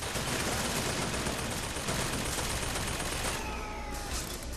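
Rapid, dense gunfire from BioShock Infinite, a sustained burst of shots filling the whole moment before thinning out near the end.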